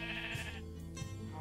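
A sheep in Minecraft gives a single wavering bleat, fairly close and clear, with no speech over it.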